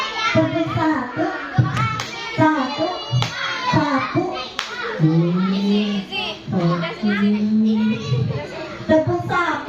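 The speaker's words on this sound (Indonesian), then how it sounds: "Tepuk satu." Children clap in short rhythmic patterns while chanting along with an adult leader in a classroom game, the claps sharp and close between bursts of young voices.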